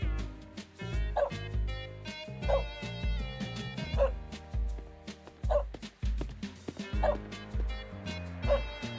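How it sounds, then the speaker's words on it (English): A dog barks and whimpers in a video game set in a grim, dirty area, with short yips and bow-wows recurring about every second and a half over looping game music. "Doggy, hello. I found you."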